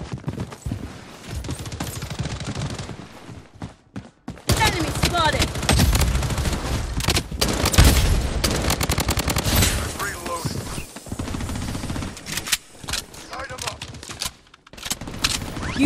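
Rapid bursts of MCX rifle fire in the Blood Strike shooter game, loud and close, cut by short pauses, mixed with other game effects and voice callouts.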